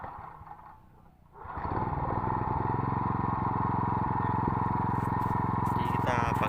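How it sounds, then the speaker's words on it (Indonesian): A weed-killer spraying machine's engine starts after a quiet moment and settles into a loud, steady running drone that carries on to the end, heard close up. "Langsung aja kita hidupkan mesinnya."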